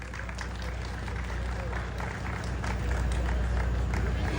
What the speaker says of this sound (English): I'm going to request you all to give a round of applause for the organizers of tonight's event